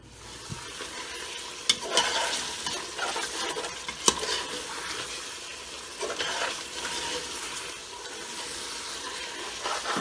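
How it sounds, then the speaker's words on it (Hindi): Meat, goat or mutton for an arvi gosht curry, is stir-fried in oil with a close, crackling sizzle broken by scraping stirs and a few sharp utensil knocks, with no talking. "गोश्त हमारा अच्छी तरह से भुन गया"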